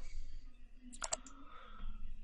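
A control key pressed on a computer keyboard gives a couple of quick, sharp clicks in close succession, fairly faint over a low background hum, with no talking.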